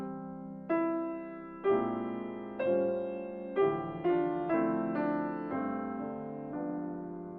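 Piano plays chords from a song, each rolled so quickly that the notes nearly blend into one attack. About eight soft chords arrive in a slow, steady sequence and ring into one another, with no talking.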